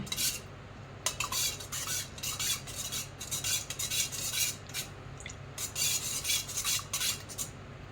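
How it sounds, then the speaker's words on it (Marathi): A spoon stirs milk in a metal pot while homemade curd is being prepared, scraping and clinking against the sides in steady, quick repeated strokes, close and fairly loud, with no talking. "घ्यायचं व्यवस्थित असं ढवळून घ्यायचं"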